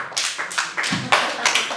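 A group of people claps at an indoor gathering, several short uneven bursts of close, sharp handclaps.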